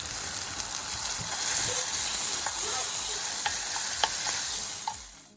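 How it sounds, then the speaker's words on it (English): Mackerel fries in a little oil with black pepper for a Ghanaian breakfast, giving a steady, close crackling sizzle with scattered pops and clicks throughout, fading out at the very end with no talking. "And then you just fry it up in a little bit of oil and you only add black pepper."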